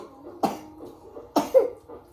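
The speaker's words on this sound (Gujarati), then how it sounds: "મમ્મા ઉધરસ થઈ જાય છે" Two separate coughs, close and moderately loud, about a second apart, from a person at a family birthday party at home, with faint room noise between them.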